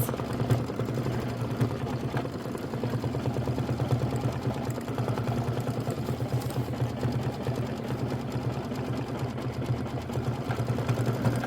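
An embroidery machine stitches holly leaves for a Kimberbell Christmas quilt block, its needle running in a rapid, even mechanical whir that holds steady and close throughout, with no voices.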